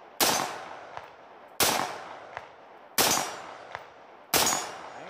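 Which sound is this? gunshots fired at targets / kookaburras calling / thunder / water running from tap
gunshots fired at targets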